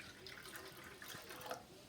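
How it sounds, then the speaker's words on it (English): Water pours steadily into a cooking pot for rice, a soft continuous trickle and splash with no talking over it, fairly quiet and close. "Try not to spill the water everywhere. And we're just going to carefully pour it in like so."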